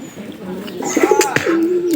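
Domestic pigeons in a loft give a short bout of close cooing, a low warbling call rising then drawn out, with light rustling and a brief chirp behind it.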